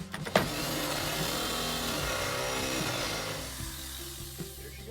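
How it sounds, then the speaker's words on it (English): Steady whining drone of a power drill cutting a hole in metal for a rivet nut thread insert, running continuously at even volume, then winding down near the end. "we're gonna go ahead and drill the correct size hole for this thread insert"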